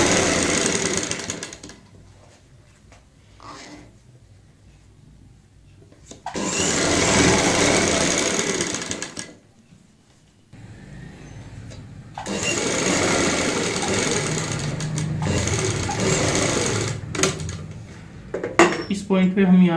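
A sewing machine stitches a zip onto a kameez in three loud, steady bursts of rapid mechanical whirring, separated by quieter pauses that carry faint handling sounds.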